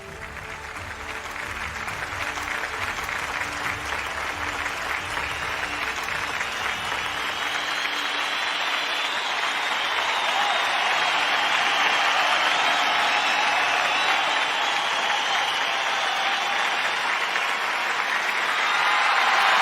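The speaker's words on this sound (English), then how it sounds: "I'm going to add my personal applause" Sustained audience applause from a large crowd, a thick, continuous roar of clapping that swells slightly louder toward the end with no break.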